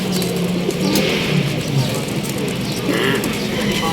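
Royal Teddy pigeons coo softly in short, low warbling phrases amid background chatter and ambient noise at a pigeon market in Lahore.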